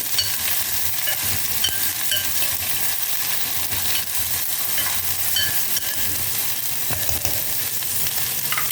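Okra, green chillies and curry leaves sizzle and fry steadily in a hot pan, a continuous crackling hiss with occasional spatula scrapes and stirring clicks, close up.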